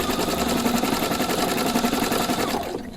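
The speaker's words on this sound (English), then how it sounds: "I'm going to go into a serpentine stitch, and I think that's in the D menu." A sewing machine running steadily through a serpentine stitch to couch yarn with a three-hole yarn foot, a fast even mechanical whirr with rapid needle ticks that slows and stops at the end.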